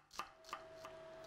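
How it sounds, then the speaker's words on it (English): A knife finely chops a shallot on a cutting board in a kitchen, four crisp, evenly spaced taps, close and quiet with no talking. "I first grate a medium carrot and then finely chop a shallot."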